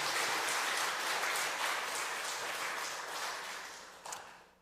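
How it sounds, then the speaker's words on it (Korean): A church congregation at a Sunday afternoon worship service claps together, a faint, steady wash of applause that fades out with a few final claps. "박수 한번 쳐주세요."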